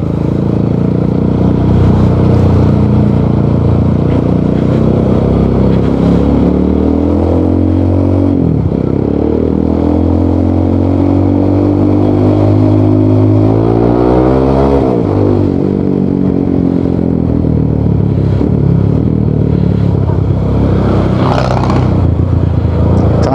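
Rusi Sigma 250 motorcycle fitted with a Leovince muffler revving on the road, loud and close, with a low steady idle rising into repeated climbing rev sweeps and falling back between them, plus some mechanical clatter.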